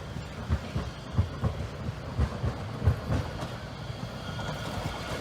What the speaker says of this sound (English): Here's a tram heading over to the south.